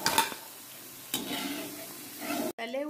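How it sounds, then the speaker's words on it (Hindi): Battered onion pakoras go into hot oil for deep-frying, setting off a steady crackling sizzle with a couple of soft clinks. A brief voice cuts in near the end. "प्याज के पकौड़े बनाने के लिए भी इसी तरीके से हम तेल में डाल देंगे"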